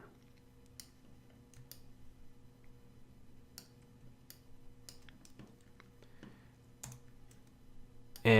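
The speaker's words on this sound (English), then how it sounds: "So I'm going to go to D on the keyboard." Sparse clicks and taps on a computer keyboard during 3D modeling work, including a press of the D key, with light, scattered keystrokes over a quiet room hum.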